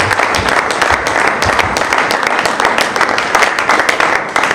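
Continuous, dense applause from a church congregation at a lively worship service, loud and steady throughout with no speech over it.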